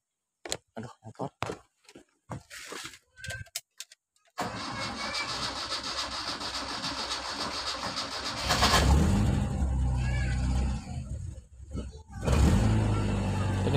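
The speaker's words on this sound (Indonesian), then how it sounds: "Dan saya coba starter." A CNG-converted car engine cranks briefly with the starter, catches and settles into a loud, rough idle with some revving, recorded up close after a few scattered clicks and handling noises.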